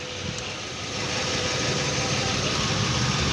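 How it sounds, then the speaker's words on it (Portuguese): A Kia Sportage engine idles with its power steering pump belt running, a steady mid-pitched mechanical hum and vibration that grows slightly louder after the first second, with no talk. "Essa aqui é a correia da bomba de direção."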